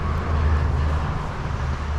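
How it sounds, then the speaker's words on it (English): Steady road traffic noise, a continuous low rumble with a faint wind-like hiss and no distinct passes, moderate and fairly distant. "Sorry about the road noise"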